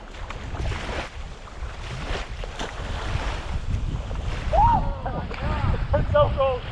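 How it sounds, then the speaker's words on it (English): Strong, gusty wind buffets the microphone at a lake above a dam spillway, roaring continuously with a voice talking over it. "it's super windy"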